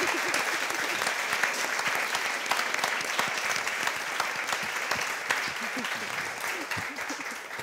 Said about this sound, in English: let's have a nice round of applause for our masters